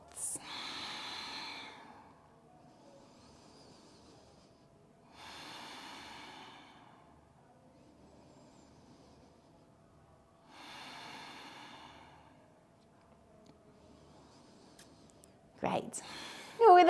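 Slow, deep breaths during a morning yoga flow, three long exhalations spaced several seconds apart in a quiet room, close and soft, with a sharp rustle at the very end.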